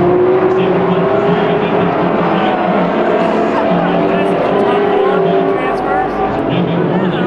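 Late model race cars roar around the short oval at the Bullring Las Vegas during a heat race, a steady loud engine drone under an announcer's running commentary.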